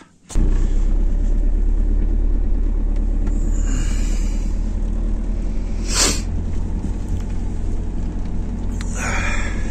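A vehicle's wheels spin and slip on a cold day, with a loud, steady engine rumble throughout and a few brief higher whines as the tyres lose grip.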